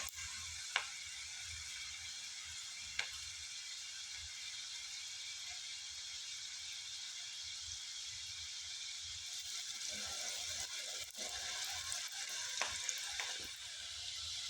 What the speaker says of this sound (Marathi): सगळ्या चकल्या मी तळून घेणार आहे यामध्ये.